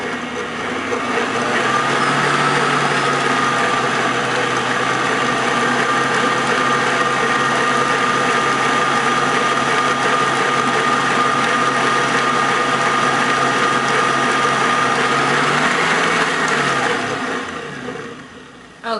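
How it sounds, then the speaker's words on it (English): Better Home electric stand mixer churning cookie dough, a steady mechanical whir with gear-like rattle running continuously for most of the time before winding down near the end. "This is my good handy dandy Better Home mixer I got about 4 years ago, and let me tell you, this thing is still going strong"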